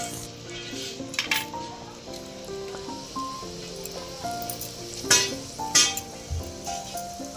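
Potatoes stirred and fried in oil for ghugni, with spoon clinks and scrapes against the pot and a soft sizzle under background music.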